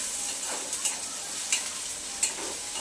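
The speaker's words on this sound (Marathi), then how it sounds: "आता आपण त्याच्यामध्ये कढीपत्ता आणि टोमॅटो दोन्ही सुद्धा घालणार आहोत" Curry leaves and tomato hit pink-fried onion in a pan: a close, steady sizzle with a few sharp spoon scrapes as the mix is stirred, no voices.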